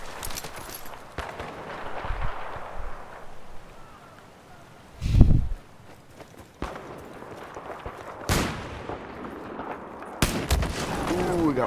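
Video game gunfire comes as a few scattered shots, with one heavier burst in the middle and sharp cracks later on, mixed with faint footstep-like sounds under a low background.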